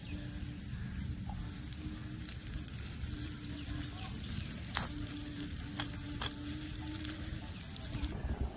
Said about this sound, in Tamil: இப்போ இஞ்சி பூண்டு பேஸ்ட் போட்டு வதக்கிக்கலாம்.